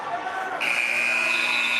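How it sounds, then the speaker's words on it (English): A basketball end-of-game buzzer sounds at a varsity boys high school playoff game in a gym, a loud, sustained electronic tone that starts partway in and holds to the end over crowd murmur. "there's the buzzer to signify the end of the game"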